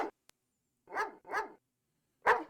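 Dog barking in the video game Phantasmagoria: three clear, separate barks at an even pace, close and fairly loud, with short silences between them and a tiny click just before.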